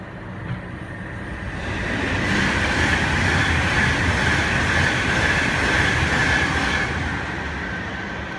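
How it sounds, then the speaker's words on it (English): A Virgin Trains West Coast class 390 passes through Milton Keynes Central station, a loud sustained rush of wheels and rail noise that swells, holds for several seconds, then eases, with no talk. "we have a Virgin Trains West Coast class 390 about to pass through"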